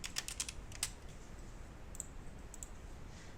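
The Home key and other keys are pressed on a computer keyboard, giving a few quick, light clicks near the start and a couple more later, faint against a steady low hiss.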